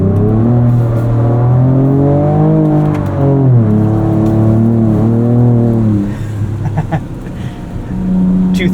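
A 2024 Ford Ranger Raptor pickup engine revs loudly and close while drifting on track, its pitch climbing and dropping through gear shifts, then easing off before surging again.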